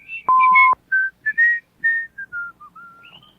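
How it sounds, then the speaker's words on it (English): A father whistles a cheerful, merry tune as he strides away, a clear solo melody of short bright phrases and sustained notes, close and prominent with no other sounds. "whistling a merry tune."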